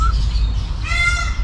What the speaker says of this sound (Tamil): மயில் சவுண்டு கேட்குது பாருங்க